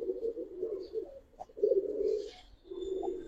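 Giribaz pigeons coo in several low, rolling phrases close at hand, with short pauses between calls and no talk.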